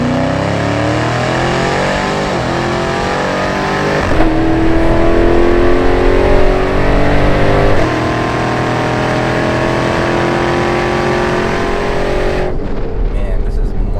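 A 1000 hp Hennessey Jeep Trackhawk, an all-wheel-drive SUV, launches and accelerates hard, its loud engine roaring with rising pitch through several gear changes over about fourteen seconds.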